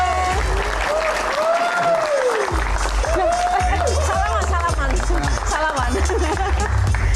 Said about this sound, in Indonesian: Kita akan langsung saja beri tepuk tangan yang paling meriah untuk Bapak Alfian Syah alias Komeng.